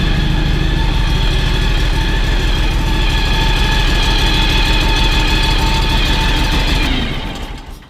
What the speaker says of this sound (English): So this is a John Deere X724 Ultimate.